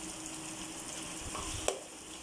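Ground masala paste sautéing in a pan with softened onions and tomatoes for prawn biryani, a steady soft sizzle with faint stirring and one brief sharp clink near the end.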